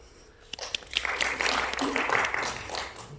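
Audience applause at a Gyeonggi workplace safety training session, a dense, steady patter of clapping filling the room for a few seconds while a voice talks over it.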